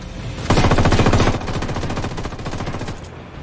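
Automatic gunfire in the Ghost Recon Wildlands video game, a loud opening burst followed by long rapid rattling volleys that fade slightly before cutting off.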